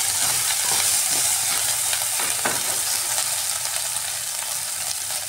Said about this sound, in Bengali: একটু ভাজা ভাজা করে নিচ্ছি পেঁয়াজটাকে।